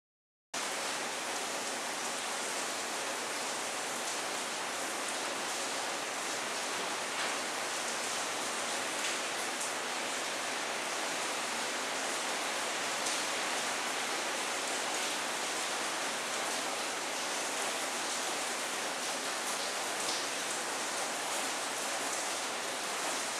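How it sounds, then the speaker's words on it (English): Steady rain falls outdoors as a constant, even hiss of drops, moderately faint and unbroken for the whole stretch, with no voices. "It's still raining out."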